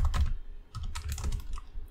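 Rapid keystrokes clatter on a computer keyboard while coding, a close, steady burst of clicks with brief pauses and no voices.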